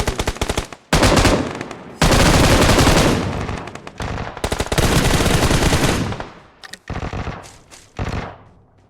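Loud bursts of automatic gunfire in the PUBG Mobile battle royale game, rapid rattling volleys several seconds long broken by short gaps and a few single shots, close and dominant with no talking.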